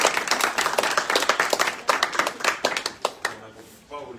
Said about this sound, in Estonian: Aplaus siis autorile Paul Viig